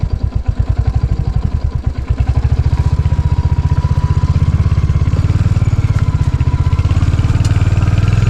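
Motorcycle engine running close by on a forest road, a loud, rhythmic thumping putter that clatters at idle and then settles into a faster, steady beat, with no voices over it.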